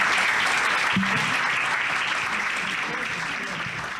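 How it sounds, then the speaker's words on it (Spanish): An audience welcoming a woman doctor and historian to a lecture on Maximilian of Habsburg with dense, sustained applause, loud and close, easing slightly toward the end. "a quien la recibimos con un aplauso"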